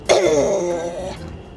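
One rough throat clearing, close and fairly loud, fading into a quiet room.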